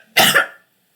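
A single short cough, close and fairly loud, bursting out once and fading within about half a second, followed by silence.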